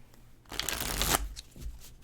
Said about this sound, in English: Sorry for that shuffle mishap there, Pranitha.